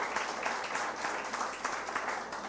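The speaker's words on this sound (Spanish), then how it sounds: "Denle un aplauso al Señor" A church congregation applauds during a Sunday sermon, a dense, fairly faint, continuous wash of clapping from many hands across the room.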